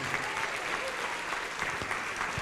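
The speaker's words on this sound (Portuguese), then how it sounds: "Vamos aplaudir mais ao nome de Jesus." A church congregation claps in sustained applause, dense and steady throughout, with some voices mixed faintly underneath.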